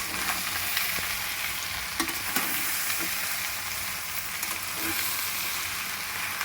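Okra and onion sizzle and hiss in a hot pan while being stirred, with occasional scraping clicks of the spoon over the steady frying crackle.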